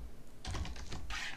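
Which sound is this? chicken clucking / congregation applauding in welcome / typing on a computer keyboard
typing on a computer keyboard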